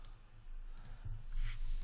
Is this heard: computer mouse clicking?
yes